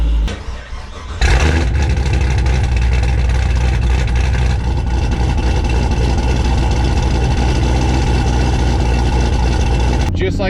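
A Camaro fitted with a Legend exhaust system in tour mode, rumbling steadily at idle with a deep, continuous low drone that starts abruptly after a quiet first second and holds loud throughout.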